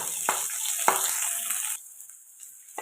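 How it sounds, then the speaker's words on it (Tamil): Halved shallots sauté in oil with mustard seeds for buttermilk curry, giving a bright, close sizzle for under two seconds with a couple of sharp utensil taps. It then drops to near silence, with one last tap at the end. "சின்ன வெங்காயம் ஒரு நூறு கிராம் அது ரெண்டாக கட் பண்ணியிருக்கேன் அது அதில் போட்டுக்கோ இப்போ இதை வதக்கிடும்"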